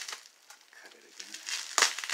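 Packaging for a Hollywood Rocks box set is cut open, giving faint, brief crinkling and crackling of plastic and cardboard in scattered bursts, ending with a sharper rustle.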